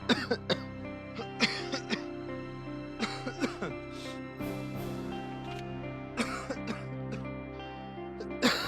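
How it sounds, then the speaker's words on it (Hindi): A person in an indoor drama scene coughs in a series of sharp, hacking bursts, close by, over a steady background music bed. "तबीयत थोड़ी खराब है, बहुत खांसी हो रखी है।"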